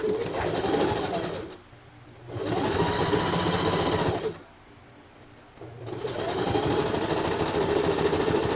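A sewing machine zigzag-stitching a lace bralette cup, running in loud, close, steady bursts of rapid stitching with two short pauses between runs.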